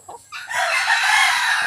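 Young roosters (stags) crow and cluck nearby, a few short clucks followed by a loud rising crow that fills the rest of the brief moment.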